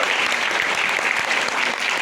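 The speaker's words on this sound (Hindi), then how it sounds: "थोड़ा स्टैमिना वाली तालियां हो, थोड़ा एनर्जी वाली तालियां हो," A short burst of dense, energetic clapping comes from an audience at a talk about Korean red ginseng. It is loud and unbroken throughout, with no voices.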